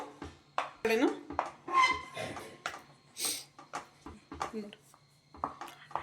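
Spoon scraping and clattering in a pan while Bombay Karachi halwa is stirred with ghee, irregular close metallic knocks and scrapes with someone talking over them.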